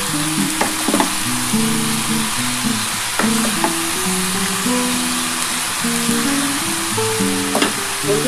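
Cabbage and potato sizzle loudly as they fry in a pan with Kashmiri chilli powder, while a spoon scrapes and stirs through them in irregular strokes.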